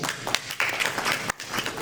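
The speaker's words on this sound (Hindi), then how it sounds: "आप तालियों से इनका स्वागत करिए" An audience at an honour ceremony in a hotel hall claps to welcome a guest: brief, uneven bursts of scattered applause, fairly faint, with a short gap near the end.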